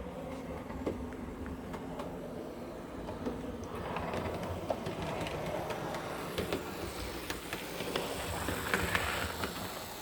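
Homemade HO scale track cleaner car running along model railroad track, a soft, steady rolling rumble with faint clicks that grows slightly louder as it passes close by.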